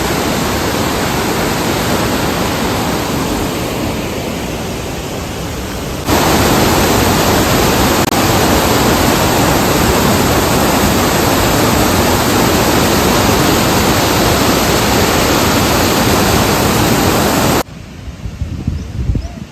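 Floodwater from a river swollen by heavy monsoon rain in Konkan rushes past in a loud, steady, unbroken roar that fills the scene, then drops off abruptly near the end.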